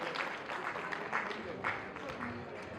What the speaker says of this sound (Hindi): हमारे लाले जी के लिए जोरदार तालियां